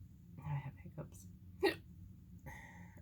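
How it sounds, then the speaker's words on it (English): A person gives a single sharp hiccup amid quiet, intermittent speech, with the talking audible before and after it. "I have hiccups."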